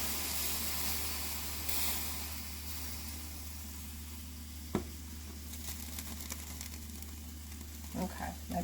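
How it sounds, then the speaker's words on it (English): Tea boiling over on a stovetop makes a continuous frothy sizzle and hiss over a low steady hum, broken by a sharp clatter midway and some rustling near the end. "Making tea and letting it boil over."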